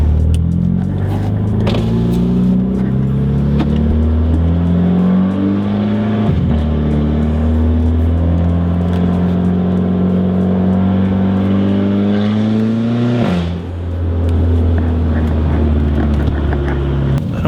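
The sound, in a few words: loud Audi A3 exhaust backfiring while driving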